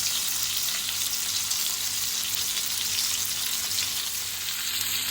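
Khadichi macchi fish fries in oil in a pan over a medium gas flame, a steady, close bright sizzle crackling evenly throughout with no voices.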